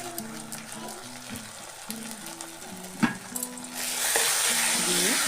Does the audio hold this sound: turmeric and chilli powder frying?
yes